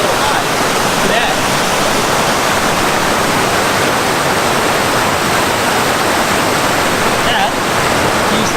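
Upper falls at Cascade Park in New Castle, Pennsylvania, running high, a loud steady roar of rushing water filling the whole clip without pause.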